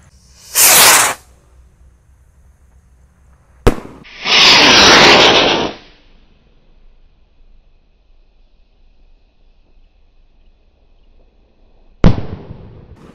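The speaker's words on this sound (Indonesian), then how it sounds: "Sudah berhasil menyala roket super jumbonya." A large Gold Dragon roman candle rocket firework is lit outdoors, giving a loud whooshing launch, then a sharp crack with a longer fizzing burst. A final sharp bang follows after a long quiet pause.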